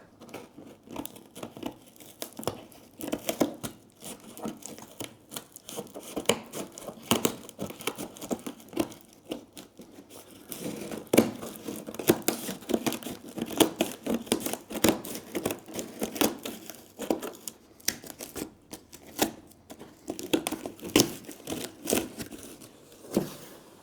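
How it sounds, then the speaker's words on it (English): Cardboard and tape crinkle and rip as a taped drink-kit box is torn open, with close, irregular bursts of tearing and rustling and short pauses between them. "So here we have the box, and all we have to do is tear it open here."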